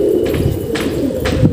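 Pigeons coo in soft, low repeated calls close by, three or so throaty phrases over a brief stretch, resting after drinking water.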